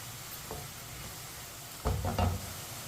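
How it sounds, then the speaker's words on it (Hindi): Onions and garlic lightly browning in a pan for a kaddu chicken curry, giving a faint steady sizzle broken by a few short louder stirring scrapes near the end. "प्याज और लहसुन को मैंने हल्का सा ब्राउन कर लिया"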